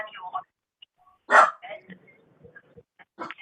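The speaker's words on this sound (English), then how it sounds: "My dog barking." A single sharp dog bark stands out amid quiet, scattered speech sounds, fairly close and clear.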